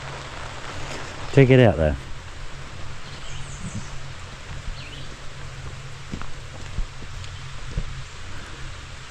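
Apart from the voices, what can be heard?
rain falling at a remote West Virginia campsite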